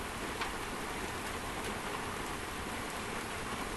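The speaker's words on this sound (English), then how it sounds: "Now it's really pouring rain out there, as you guys can hear." Heavy rain pouring outdoors during a spring thunderstorm, a dense, even roaring hiss of downpour with no letup, steady and close, without voices.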